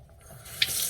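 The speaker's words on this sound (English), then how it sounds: "Turn the water on." A household tap turned on to fill a soapy sink, giving a steady broadband rush of water that swells partway through, with a brief click or clunk of the handle and no talking.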